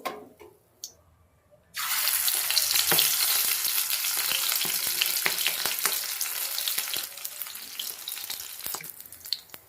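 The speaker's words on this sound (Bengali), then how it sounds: "একইভাবে আমি সব পকোড়াগুলো ভেজে নেব" Stuffed cabbage pakoras deep frying in hot oil: after a near-silent start with a faint clink, a steady, close, crackling sizzle takes over and continues with scattered sharp pops and bubbling.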